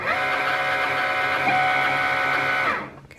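Cricut cutting machine running steadily as it feeds heat transfer material, a close, continuous mechanical whir with motor tones that holds for about two and a half seconds, then stops abruptly.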